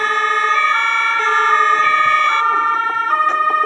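A fire truck siren from the Roblox game Emergency Hamburg wails loudly and steadily, with layered tones shifting in pitch throughout, heard alone at close range.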